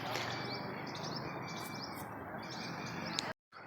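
Birds in the aviary of a park zoo chirp and tweet steadily, a dense mix of calls over a constant broadband outdoor hiss, until the sound cuts out abruptly near the end.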